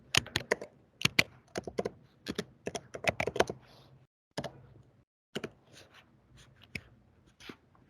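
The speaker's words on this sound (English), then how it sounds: "Let's type a fake message" Typing on a computer keyboard while a fake text message is entered for a prototype: irregular clusters of close, crisp key clicks with short pauses between bursts, no talk.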